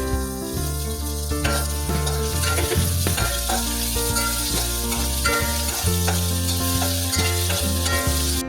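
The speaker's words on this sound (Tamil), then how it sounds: "வெங்காயம் வதக்கியாச்சு. இப்போ பச்சை மிளகாய் சேர்த்துக்கலாம்." Onion and green chilies fry in hot oil for a banana flower and drumstick leaf kootu, a loud continuous sizzle with occasional scraping stirs of a spatula against the pan, close up and without talk.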